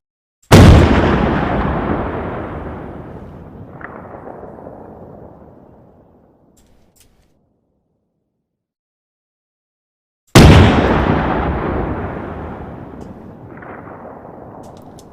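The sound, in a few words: WW2 anti-air vehicle gun firing in Arma 3 video game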